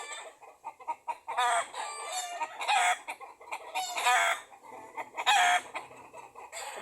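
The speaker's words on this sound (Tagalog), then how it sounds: "Putak ng putak." Several chickens cackle and cluck loudly and close by in a rapid, agitated series of bursts that carries on throughout, with no talking.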